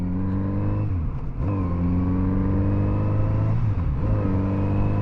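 A Kawasaki Z900RS motorcycle accelerates in first gear, its engine note climbing steadily and then dipping briefly twice as the revs drop and build again, loud and close with no talking.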